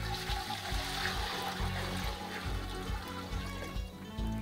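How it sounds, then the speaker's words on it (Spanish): Water is poured into a pot while preparing capulí jucho, a continuous splashing pour with a low, steady gurgle, close and alone without talk. "vamos a iniciar primero colocando un poco de agua"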